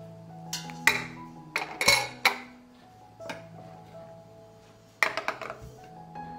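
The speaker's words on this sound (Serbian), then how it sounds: "U šerpu na dno stavljam krpu i unutra ređam tegle." Glass jars set one by one into a pot lined with a cloth, giving soft irregular clinks and taps with quiet gaps between them, close and fairly faint.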